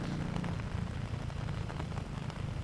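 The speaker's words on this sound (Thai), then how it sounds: "คือว่าหนักเนาะคือว่าฝนตก" Heavy rain pours steadily over hills and a river valley in Vang Vieng, Laos, a dense continuous hiss close by with no talk, lasting throughout.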